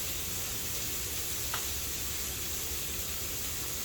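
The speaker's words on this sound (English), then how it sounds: "hear that good sizzle" Vegetables and tofu sizzle steadily in a hot pan with soy sauce, a soft, even hiss of frying that continues unbroken and fairly quiet throughout.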